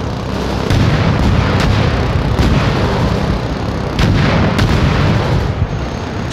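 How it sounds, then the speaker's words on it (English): Artillery barrage in the video game Crossfire Legion, a dense, continuous rumble of booming blasts with sharper bursts recurring every second or so, loud and close, with no talk over it. "Barrage on target."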